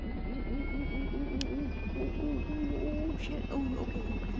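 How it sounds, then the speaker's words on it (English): Steady jet-style aircraft engine drone in SimplePlanes VR, a continuous hum with a high whine, while a person talks over it. "Yeah, engine's on."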